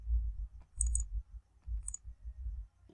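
A computer mouse clicks while working in CYPECAD structural design software, with a few quick, faint clicks in two short clusters over a low background hum.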